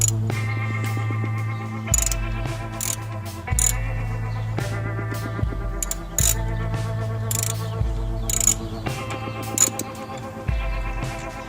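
Ratchet wrench turning bolts while a starter is removed from a 2002 Subaru Impreza WRX, a loud continuous run of clicking pawl strokes in repeated bursts, close and mechanical, with no talking.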